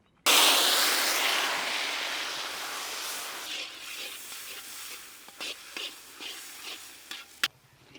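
Sliced salted onions hit hot oil with a sudden loud sizzle that gradually fades, followed by a few brief stirring scrapes and clinks near the end.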